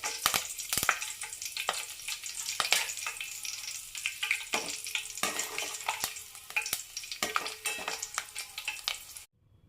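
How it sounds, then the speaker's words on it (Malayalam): Curry leaves fry in a pan, a dense steady crackling sizzle with sharp spitting pops scattered throughout, loud and close with no talk, cutting off abruptly near the end. "കുറച്ച് കറിവേപ്പില കൂടി ഫ്രൈ ചെയ്തെടുക്കാൻ പോവാം"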